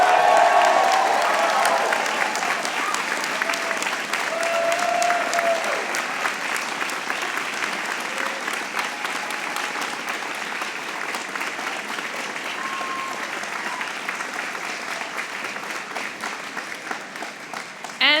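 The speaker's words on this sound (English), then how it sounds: "So I ask each and every member of the class of 2023 to stand and cheer the people who made" The Yale Law School class of 2023 stands cheering and applauding at commencement, a large crowd producing a dense, sustained roar of clapping that starts loudest and slowly eases over many seconds, with a few whoops rising above it.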